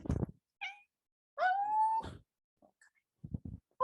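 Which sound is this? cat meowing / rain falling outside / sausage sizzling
cat meowing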